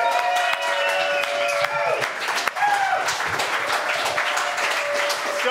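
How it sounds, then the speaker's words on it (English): An audience applauds a guest speaker, Randall Thomas, at a talk; steady, fairly loud crowd clapping fills the whole stretch with a brief dip midway, and a tonal hum or music line runs faintly beneath. "applause to our next guest, Randall Thomas"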